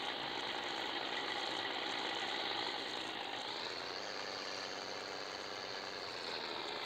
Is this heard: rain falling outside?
no